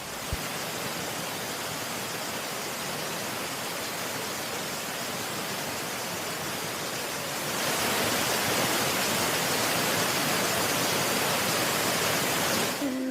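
A waterfall on the Kaas Plateau, seen from near a cave leading behind it, gives a steady, faint, broadband rush of falling water that grows slightly louder partway through, with no voices.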